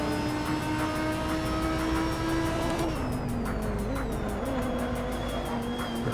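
A Viper race car engine in a racing video game holds a steady, loud whine with a pitch that drops partway through, continuous with no talk.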